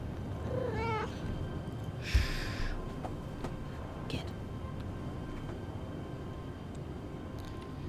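A house cat meows once with a rising, wavering call near the start, then a short breathy sound follows in an otherwise quiet indoor room with faint background hum.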